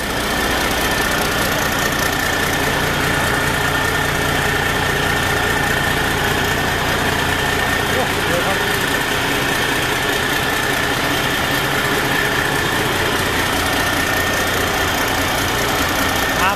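A new rice combine harvester's engine and blower running at a steady drone, loud and close with a constant whine on top and no break throughout.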